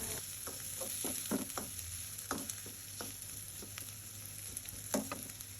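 Onion and garlic paste being stir-fried in a pan, a soft continuous sizzle broken by repeated scraping clinks of a spatula against the pan at an irregular pace.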